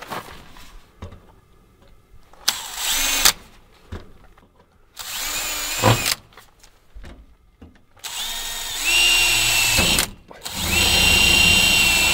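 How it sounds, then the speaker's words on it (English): A power drill whines in several separate bursts while pre-drilling pilot holes for lag bolts, some short and some longer, each spinning up loudly and stopping, with quiet pauses in between. "So we're going to pre-drill our holes for the lags."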